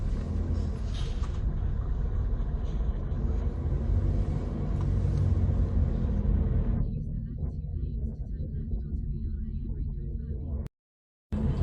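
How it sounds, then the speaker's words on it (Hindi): A car is driven along a road between Bled, Slovenia and Lake Como, heard from inside the cabin as a steady, loud engine and road rumble with a broad hiss that thins out partway through. "अब जब मैं गाड़ी में बैठा हूँ और गाड़ी चला रहा हूँ"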